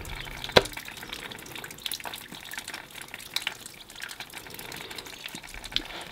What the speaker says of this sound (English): I don't know if you can see that dripping, where I guess the snow is melting on the roof above me.